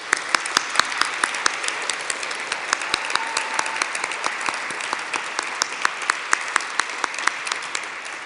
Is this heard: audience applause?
yes